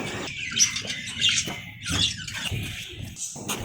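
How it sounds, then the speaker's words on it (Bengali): Birds call in a quiet, empty park in Rangamati. Several close, bright chirps and short squawking calls arrive in irregular bursts over a soft background, with no people heard. "নিরবতার মাঝখানে পাখির ডাকগুলো এত অসাধারণ লাগছিল"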